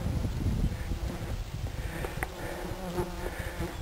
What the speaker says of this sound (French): Oh, c'est infernal, ces mouches.